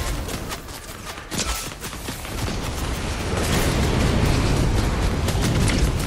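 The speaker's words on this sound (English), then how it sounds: "Three people shooting at you and you're still alive." Rapid Fortnite gunfire from several players firing at once, a dense continuous crackle of shots that grows louder and steadier toward the end.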